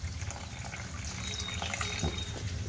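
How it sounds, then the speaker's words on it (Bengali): Water is poured from a tap or jug into oil and flour while making crispy nimki dough, a steady splashing trickle that runs the whole time at moderate loudness with no talk over it. "এবার আমি তেলের মধ্যে একটু জল দিয়ে দেব।"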